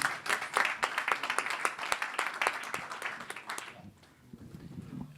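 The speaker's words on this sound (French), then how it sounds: "On peut les applaudir." An audience at a political conference applauds with many distinct, close claps over a steady patter, then stops abruptly, leaving a low murmur of voices.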